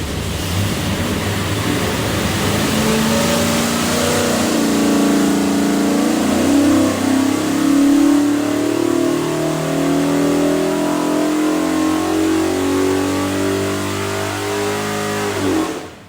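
Ford FE 427ci V8 with a custom-grind solid roller cam and serpentine belt setup, run on a dyno for a '73 F250: a loud, steady, close-up engine roar that climbs in pitch across the pull, then cuts off abruptly at the end.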